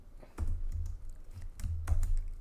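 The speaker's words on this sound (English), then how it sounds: "Let's type input" Keys pressed on a TI-84 Plus CE graphing calculator keypad: several soft, close plastic taps in an uneven rhythm over a low background hum, with no voices.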